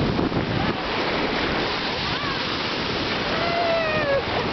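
Ocean surf rolls in at Indian Rocks Beach on a sunny day, a broad continuous wash of waves mixed with wind buffeting the microphone, with faint voices in the background.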